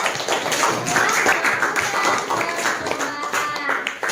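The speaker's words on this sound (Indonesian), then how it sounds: "beri aplaus untuk kita semua" A class of students applauds after a school food test for carbohydrates and fat, a dense, steady patter of many hands clapping close by for several seconds.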